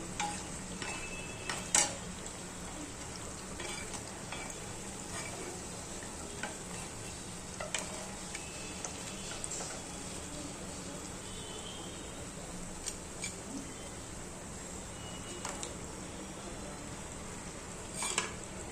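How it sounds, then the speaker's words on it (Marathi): Bread slices frying in a pan until brown, a faint steady sizzle with occasional soft clicks and scrapes of stirring, quiet and unbroken with no voices. "आता हे असे ब्राऊन कलर होईपर्यंत तळून घ्यायचे"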